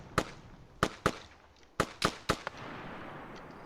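Gunfire aimed at a tower in the military shooter Arma 3: six loud, sharp shots in an uneven rhythm, each with a short echoing tail, followed by a low lingering rumble.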